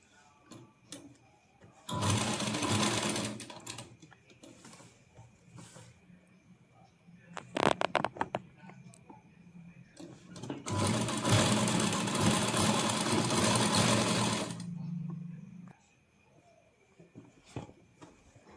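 A sewing machine stitches cut work along a child's scalloped skirt in two long loud buzzing runs with a short burst between, quiet pauses around them.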